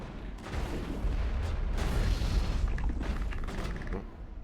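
Gunfire in the game Mass Effect 1, a dense, rumbling stretch of repeated shots and booms over a low din, moderately loud and continuous with no talking.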